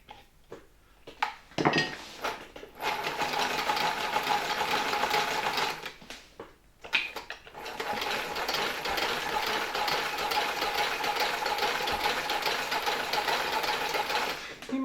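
A 1959 Tula sewing machine driven by hand crank runs in two long bursts of rapid, rhythmic mechanical clatter, separated by brief pauses with small handling knocks at the start and between runs.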